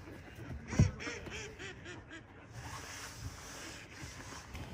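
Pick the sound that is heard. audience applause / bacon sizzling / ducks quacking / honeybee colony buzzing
ducks quacking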